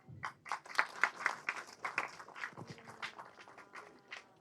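An audience claps as a co-actor comes on stage at a Telugu movie song launch event, producing a sustained, fairly faint patter of claps that fades slightly toward the end.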